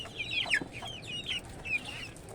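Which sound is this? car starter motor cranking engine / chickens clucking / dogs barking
chickens clucking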